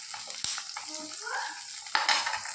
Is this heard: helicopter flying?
no